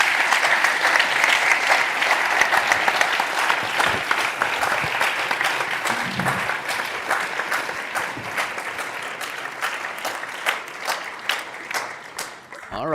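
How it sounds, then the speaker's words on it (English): A roundtable audience breaks into sustained applause, dense clapping filling the room and slowly thinning toward the end into scattered individual claps. "please give her another big round of applause"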